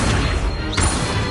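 A magical Accio summoning spell cast in Hogwarts Legacy bursts out as a loud, dense whoosh and crash, with a brief swell partway through and no voice over it.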